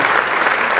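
A brief stretch of steady audience applause with many hands clapping densely and evenly at an educational event.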